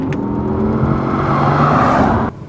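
A 2023 Audi R8 V10 engine roars close by, rising and building for about two seconds before cutting off abruptly.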